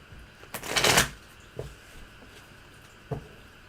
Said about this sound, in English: I'm just watching your hand shuffle by Sunny's feet there